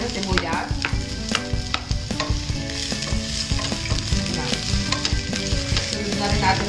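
Chopped onion sautéing with reddened garlic in a pan for a Filipino pinakbet, sizzling steadily with repeated scraping stirs of a utensil, close and fairly loud, no talking.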